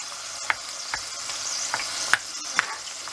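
Potatoes fry in a pan, making a steady sizzle close by with a few sharp clicks and taps scattered through it, and no voices.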